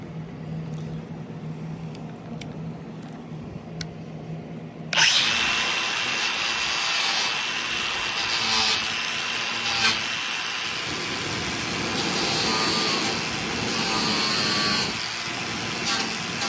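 Angle grinder fitted with a 60 grit flap disc removing old bed rail adhesive on a '91 Cummins, a low hum giving way midway to a loud, steady high-pitched grinding whine that runs continuously to the end.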